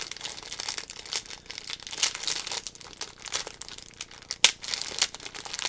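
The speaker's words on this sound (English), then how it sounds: "And then I'm opening up my bag, and I'm going inside here." A crinkly plastic bag holding AliExpress stamps and dies being opened and rummaged, close-up, with bursts of crackling and one sharp rustle, no voices.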